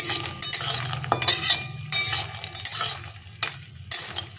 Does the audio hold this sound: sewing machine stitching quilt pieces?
no